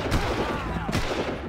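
Rapid gunfire from below in the video game Far Cry, a short dense burst of sharp shots close and loud.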